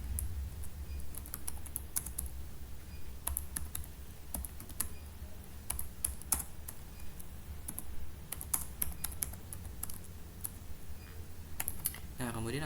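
Scattered key clicks from a computer keyboard, irregular bursts of typing over a low steady background hum, fairly close.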